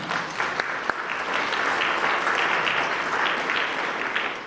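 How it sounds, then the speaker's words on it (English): A community forum audience applauds with a dense, sustained wash of many hands clapping, a few sharper claps standing out near the start. "Let's give Kenosha a round of applause for doing that"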